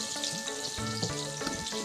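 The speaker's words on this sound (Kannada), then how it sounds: "ಇದು ಬೇಯ್ತಾ ಇರಲಿ, ಫ್ರೈ ಆಗ್ತಾ ಇರಲಿ." Sliced onions and cashew nuts sizzle in a pan, giving a soft, steady crackle with a few stirring knocks over about two seconds.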